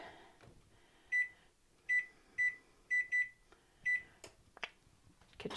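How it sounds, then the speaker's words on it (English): A kitchen timer gives a series of short, bright electronic beeps, about six in irregular succession, fairly quiet and close in a home kitchen, followed by a few soft clicks and handling noises. "Kitchen timer set."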